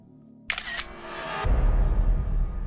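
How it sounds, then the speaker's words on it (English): A digital camera shutter fires once from an adjacent room, a crisp click with a short mechanical whir. A low rumbling noise swells up behind it afterward. "The sound of a digital camera shutter, accompanied with a blindingly bright flash coming from an adjacent room"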